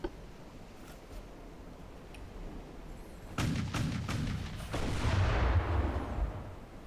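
Heavy warship guns boom in a naval battle in Ultimate Admiral Dreadnoughts, with a German Hagen-class ship firing on an enemy destroyer. Low, loud salvo blasts roll in after a quiet stretch and are followed by sustained rumbling, with no talk.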